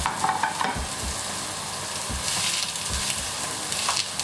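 Beef-stuffed aubergines sear in a frying pan with fat, giving a loud, close, continuous sizzle and crackle with occasional stirring scrapes and no voices.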